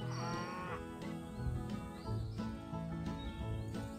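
Cattle moo repeatedly in the Hay Day farming video game, with several overlapping, drawn-out calls over a steady background of farm ambience and music.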